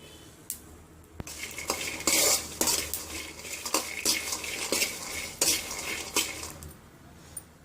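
Peanuts and red chillies roast in a dry pan while a metal spatula stirs them, producing loud, close scraping and rattling strokes in an irregular rhythm over a faint sizzle.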